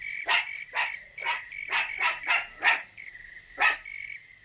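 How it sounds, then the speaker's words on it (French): A lone dog barks repeatedly in uneven bursts, about eight sharp barks over a steady high-pitched tone, moderately close and alone without speech. "Un chien tout seul, rassure-toi. Pourquoi est-ce qu'il aboie?"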